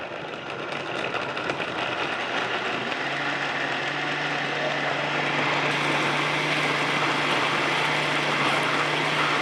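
A blender on low speed with its lid missing, whirring a smoothie in a kitchen; a steady motor drone that settles into a constant hum with a churning, grinding texture.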